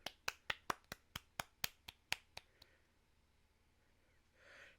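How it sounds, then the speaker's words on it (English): One person clapping about a dozen sharp, evenly spaced claps over two seconds, close and fairly quiet, fading at the end, followed by near silence and a soft breath. "Just round of applause."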